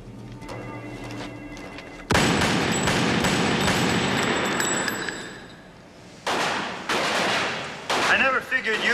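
Gunfire in a drama scene: loud bursts of rapid shots in several volleys separated by brief lulls, with ringing metallic tails.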